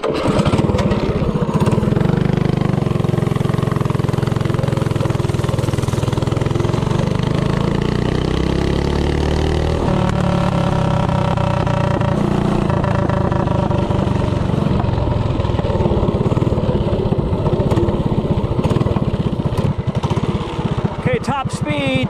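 DuroMax 208 small engine with a short intake manifold and VM22 carburetor running flat out at top speed: a loud, continuous, buzzing lawnmower-like drone that shifts pitch partway through and keeps going throughout.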